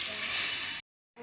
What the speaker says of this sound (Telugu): నీళ్ళు మసులుతున్నాయండి,